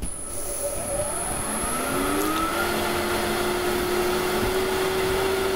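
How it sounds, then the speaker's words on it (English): Maple burl spinning on a wood lathe for a pepper mill, roughed down with a roughing gouge, a steady close whirring drone whose pitch rises as the motor speeds up. "But I'm just going to rough it down with a roughing gouge."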